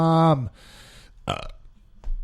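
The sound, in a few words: burp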